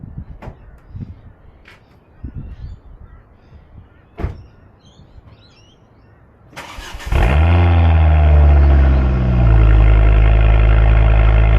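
A Ford Focus XR5 engine starting outdoors, a whirring crank followed by a loud steady idle that settles lower, with crows cawing and a door clunk beforehand.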